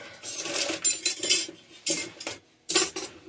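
A small spatula scrapes and clinks against dishes while making peppermint soap, a close series of metallic chinks and scraping strokes with short pauses between them.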